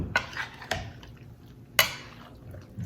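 Utensils knock and clatter against a jar or bowl while beef meal prep ingredients are mixed, with three sharp clinks among softer stirring sounds.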